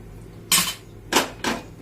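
A cooking vessel handled on a stove, giving three sharp metallic clanks, one followed by a pause and then two closer together, loud and near with no talking.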